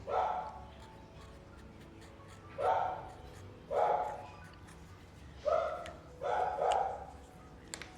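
A dog in a winter garden barks in separate bursts, five or six loud woofs spaced a second or two apart, with a quiet background between them.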